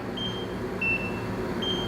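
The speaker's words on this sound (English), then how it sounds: "You can probably hear that beep." A Nira skincare laser held near the skin gives three thin, high electronic beeps as it fires, spaced at roughly regular intervals over a low steady background hum.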